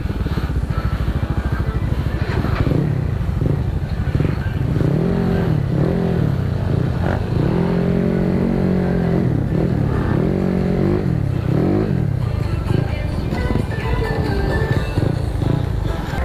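Big motorcycles idle and rev in repeated mid-pitched surges at a morning motorcycle event, some bikes with cut exhaust pipes, loud and close throughout with occasional clatter and background chatter.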